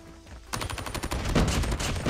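Rapid bursts of Dingo LMG fire in Call of Duty Mobile begin after a quiet half-second, then a loud, fast rattling stream of shots runs steadily to the end.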